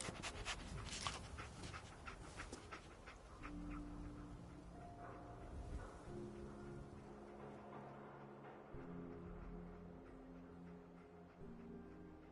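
A dog pants steadily in the Fallout 4 video game, a soft rhythmic breathing over quiet ambient game music and background sound, faint and continuous.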